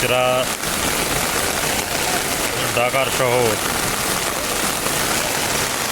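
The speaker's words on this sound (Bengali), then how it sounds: "বসুন্ধরা পকেট গেটের সাইডে বৃষ্টি" Steady heavy rain pours onto a flooded Dhaka street beside a mall road, a dense close hiss throughout, with a voice talking briefly over it.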